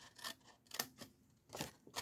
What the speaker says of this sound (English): on both sheets of paper, you're going to snip along this score line right to the crease there